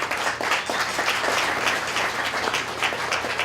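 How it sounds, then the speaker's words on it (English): An audience at an indoor talk event applauds, a steady round of many hands clapping at moderate volume that holds for a few seconds. "can we give him a little round of applause?"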